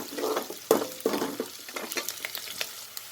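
Two medium onions fry in a pan while being stirred, producing a soft sizzle broken by irregular scraping strokes of a utensil against the pan, close and moderately loud, with no voices.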